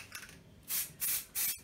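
Three distinct hissing spray-paint bursts from an aerosol can, each about a quarter second long, evenly spaced and fairly close, with low background noise between them.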